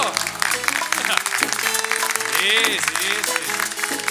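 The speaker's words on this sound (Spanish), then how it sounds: "aplauso." Audience applause at an outdoor Christmas singing event in Telde, a dense wash of clapping lasting about four seconds with musical tones and voices mixed underneath.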